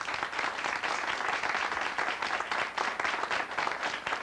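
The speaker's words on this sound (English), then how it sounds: "I would like a nice round of applause for Darcel Spear." A steady round of applause from an audience at a community jazz band audition event, dense continuous clapping at moderate distance.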